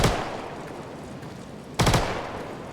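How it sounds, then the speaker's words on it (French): Two short bursts of Behring P8 submachine gun fire in the Star Citizen video game, one at the very start and another near the end, moderately loud with quieter game ambience between them. "j'essaie de tirer en me déplaçant"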